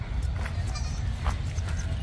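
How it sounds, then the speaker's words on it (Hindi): Osmanabadi goat, a dairy nanny with a 20-day-old kid, bleats a few short times against a steady low rumble of background noise at a goat market. "फुल दूध की बकरी"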